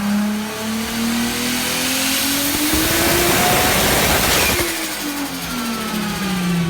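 An 800-horsepower built Toyota Supra engine revs hard on a dyno, climbing in pitch through a long pull, peaking briefly, then easing off and rising again, loud and close throughout.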